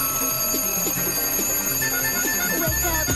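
An alarm clock going off with a bright, ringing electronic tone that repeats in quick regular bursts. It is loud and close and is mixed with light music, with no talking.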